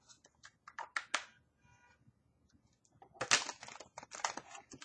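Rapid papery flicks and riffling of tarot cards being shuffled, two bursts separated by a short pause, close and fairly quiet.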